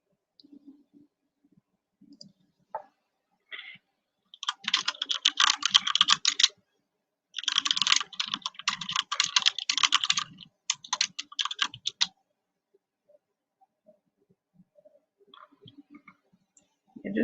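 Someone types on a computer keyboard nearby in quick clattering bursts of keystrokes. Two long runs are followed by a shorter one, with scattered single clicks and quiet gaps between them.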